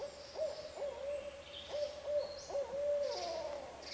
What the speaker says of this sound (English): That's the afternoon owl.